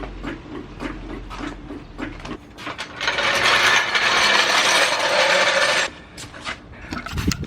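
A jack clicks and ratchets while lifting a Mazda Miata, rhythmic close mechanical clicks followed by a sustained grinding, whirring stretch, then more clicks.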